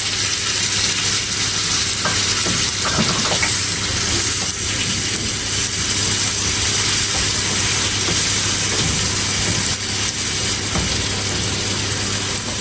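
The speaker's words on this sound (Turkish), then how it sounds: "Şimdi biberler de kavruldu." Peppers sizzle and hiss steadily in a hot pan, with occasional scraping stirs, loud and close, continuing throughout.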